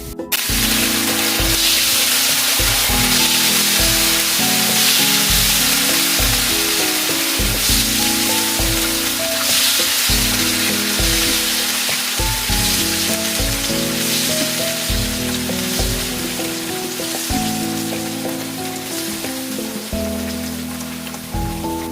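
Tempe chips deep-frying in hot oil, a dense continuous sizzle and crackle like heavy rain, loud and close throughout with no voices.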